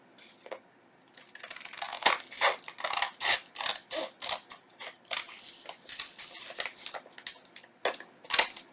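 Scissors trimming junk journal paper up close, a rapid run of crisp snipping cuts in a fairly even rhythm, about a dozen or more blade closes, with no talking.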